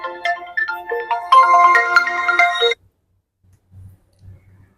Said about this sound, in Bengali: আরে দেশ থেকে তোর ফোন তোর বাবা ফোন দিছে